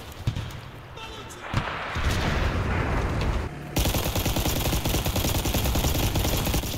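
A LaGG-3-34's 37mm cannon fires in a flight combat video game, with a few scattered heavy shots and then a sustained, rapid stream of booming rounds, loud and close, with a voice speaking at moments.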